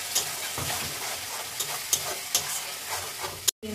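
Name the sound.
adding tomato puree to frying mutton curry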